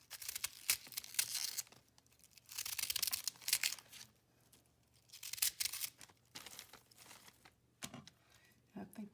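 Cabbage being cut up for keto coleslaw, giving repeated crisp crunching and tearing bursts in uneven clusters. A voice speaks faintly in places.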